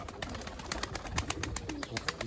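Tumbler pigeons at a Turkish pigeon keeper's loft make soft cooing and rapid fluttering, flapping wing claps that repeat in a quick, uneven rhythm at moderate distance.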